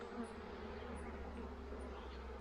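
Honeybees buzz steadily around a hive during a colony split, a quiet continuous hum close by with no talking.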